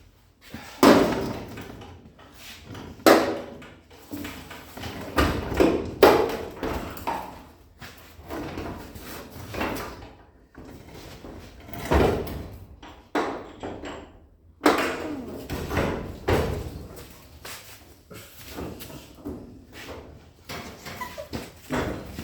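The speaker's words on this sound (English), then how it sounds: "So I got the door on her, put up a fight, but I got it." Metal car door being forced and test-fitted onto a car body under repair in a workshop, with repeated loud knocks, bangs and clunks in irregular bursts, separated by short quieter stretches.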